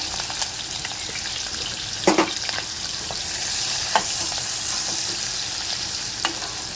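Garlic, cumin, green chilli and onion fry in a pan for bhindi bhujiya, a steady close sizzle with a few louder crackles and spatters scattered throughout, no talking.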